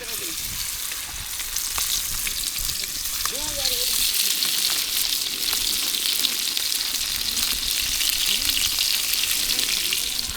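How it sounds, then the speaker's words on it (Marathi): River-caught fish fry in a pan on a wood-fired village stove, a steady close sizzle that grows louder after new pieces go in, with brief faint voices early on. "आता नवीन मासे घालतोय"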